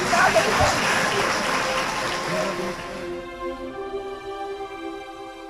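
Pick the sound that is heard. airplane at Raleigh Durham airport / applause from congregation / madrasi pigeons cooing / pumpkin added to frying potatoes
applause from congregation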